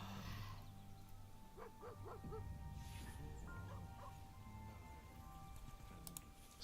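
A dog barks and yips in the fantasy role-playing video game Baldur's Gate 3, a few quick faint barks over a steady rumbling game ambience and background score.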